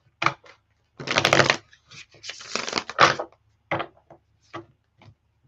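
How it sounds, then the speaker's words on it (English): Tarot cards being shuffled up close, with bursts of riffling and slapping separated by short pauses, crisp and fairly loud with no talking. "Let me just get a good shuffle on."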